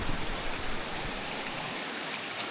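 Steady rain falling outdoors in rural Laos or Thailand, a dense continuous hiss of drops, close and even throughout with no voices.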